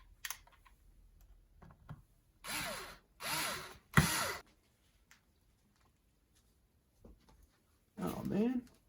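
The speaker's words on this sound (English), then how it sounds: "we should be able to just drill these screws in here" A power drill drives screws into a guitar pickguard in three short whirring bursts close by, then one more later, with quiet handling noises and clicks in between.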